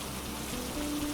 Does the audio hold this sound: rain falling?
yes